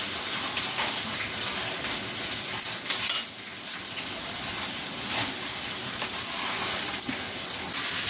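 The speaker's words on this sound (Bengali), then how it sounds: "চলো মাছটা ধুয়ে নিই" Running water from a tap splashes steadily over a fresh, live catla fish as it is washed, a continuous broadband hiss and spatter close to the mic with no talk.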